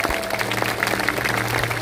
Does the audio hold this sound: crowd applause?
yes